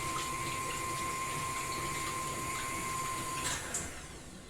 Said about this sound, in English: I'm just going to mix that together with our mixer.